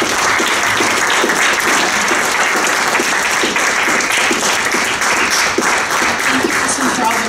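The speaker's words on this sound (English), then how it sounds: "we could just have a round of applause for Hassan." An audience applauds steadily after a talk on civil resistance and sustainable development, a dense, even wash of clapping from a full room that holds constant throughout.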